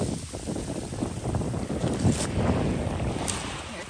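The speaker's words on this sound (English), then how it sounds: "Here comes the waves" Ocean waves wash onto a shell-covered beach at Turner Beach on Captiva Island, a steady broadband rush with a couple of brighter surges, mixed with wind buffeting the microphone and no talking.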